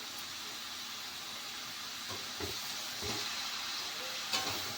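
Bottle gourd with salt, turmeric and chopped green chillies is stirred in a frying pan, giving a faint, steady sizzle broken by a few soft scraping knocks of the spoon midway.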